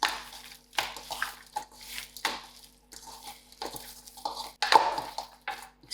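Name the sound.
hand mixing lamb chops with paprika and herbs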